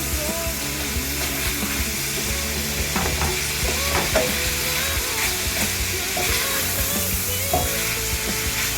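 Bacon crisping in a pan for charro beans gives a steady, loud, continuous sizzle with frequent stirring scrapes, close up and with no talking.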